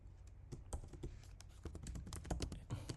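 Fingers type on a computer keyboard, giving a quiet, close run of uneven key taps with short pauses between bursts and no talking.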